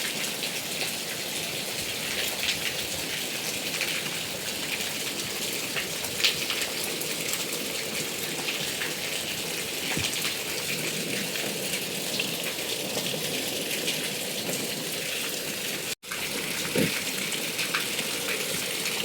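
Steady rain falling on surfaces nearby, a continuous even patter with scattered drops, broken by one brief dropout near the end, no voices.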